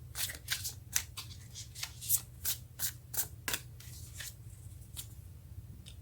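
Tarot cards being shuffled by hand, a series of soft riffling, flicking and sliding bursts at an uneven rhythm, close and fairly quiet, with no talking.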